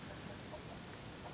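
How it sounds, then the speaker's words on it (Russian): A flock of chickens and roosters out in the snow on a winter morning cluck faintly and intermittently, distant soft calls scattered over a steady background hiss. "24 декабря, куры вышли"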